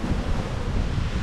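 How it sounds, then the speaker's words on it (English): Constant broadband rushing of wind hitting the microphone during a beehive inspection in Australia, loud and close, with no voices or other sounds. "it's a little bit windy today"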